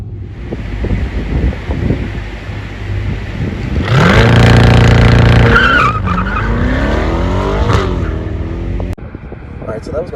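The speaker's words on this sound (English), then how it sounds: "this guy's doing launch control" A Chevrolet Corvette C8 Z51 launches under launch control at a driving school: the engine holds a steady drone, then swells into a loud rising roar with shifts as the car pulls away, steady wind noise over the microphone throughout.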